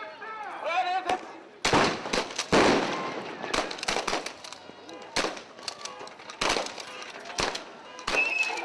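Repeated loud bangs from tear gas canisters fired at waterfront union protesters burst irregularly nearby, mixed with shouting and chanting voices.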